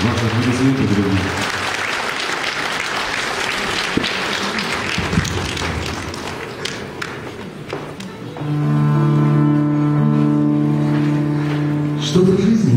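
An audience claps in steady applause at a concert stage performance, and the clapping fades as a musical ensemble begins to play sustained notes.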